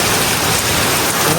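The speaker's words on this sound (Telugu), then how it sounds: "ఇక్కడ చూడొచ్చు వర్షం ఎట్లా పడుతుంది తెలుసా అసలు" Steady rain falls outdoors, a dense continuous hiss of drops on surfaces that stays loud and unbroken throughout, with no voices.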